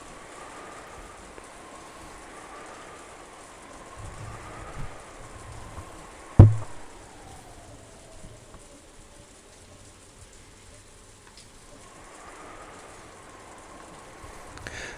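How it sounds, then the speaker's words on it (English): Steady rain from the Umineko visual novel game, a soft constant hiss with a faint looping tone and one sharp loud knock around the middle, no talk. "it was the sound of the rain, which had continued on and on since the previous night"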